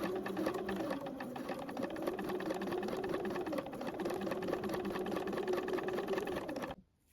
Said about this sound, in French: Donc on va coudre ici de l'extrémité où on a notre fente dans le dos jusque l'autre côté à 5 mm.